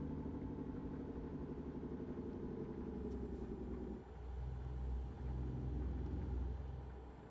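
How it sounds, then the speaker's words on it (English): A Western Star 49X truck's diesel engine in a driving video game, a steady low rumbling drone that dips briefly mid-run as the load changes, then resumes, with no talk over it. "I actually don't mind the sound of this motor,"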